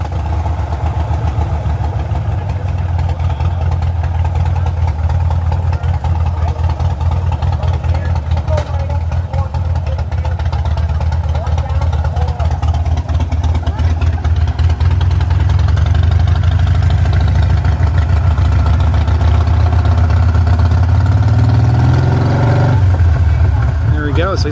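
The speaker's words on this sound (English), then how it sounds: "Got that infamous Harley exhaust on it." A Harley motorcycle with its distinctive exhaust idles steadily in a low, rumbling drone, loud and close, with voices talking over it throughout and a brief rev near the end.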